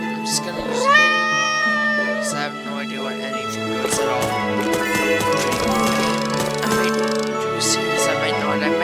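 A cat meows repeatedly, close and clear, with several drawn-out, rising and falling meows following one another over a busy background of other household sounds.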